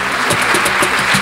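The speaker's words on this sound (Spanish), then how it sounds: "pedimos un gran aplauso" Applause from a live audience for a singer, malambo dancer and performer at a music-day show, a dense steady patter of clapping filling the whole moment with no voices.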